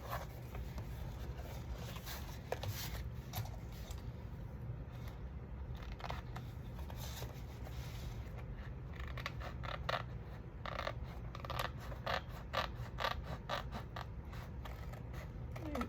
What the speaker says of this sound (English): I think I'm gonna go ahead and cut this here where the folded line was.